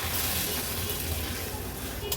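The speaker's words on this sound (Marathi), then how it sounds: "कालवण व्यवस्थित आपल्याला असं मिक्स करून घ्यायचे" A thick Agri-Koli style fish curry, made with only a little water, is stirred in a pot, giving a soft, continuous wet swishing and bubbling at close range with no talk.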